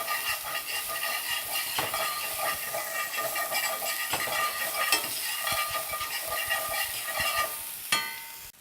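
Finely minced shallot sizzles and hisses in a cast iron skillet over medium heat, with a steady loud fry broken by scraping stirs of a utensil against the pan.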